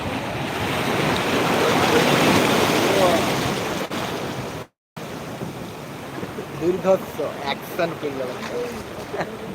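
Sea waves roll in with the incoming tide at Digha Mohana, a loud continuous surf roar with wind buffeting the microphone. The sound breaks off briefly, then fainter surf continues under people talking.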